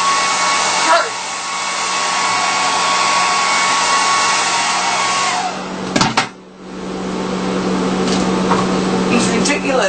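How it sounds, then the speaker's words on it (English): A hand-held hair dryer runs steadily with a loud, constant blowing roar and a faint tonal whine for nearly the whole stretch, briefly interrupted by a bump and a dip before the airflow resumes at full strength. "Holding a freaking hair dryer"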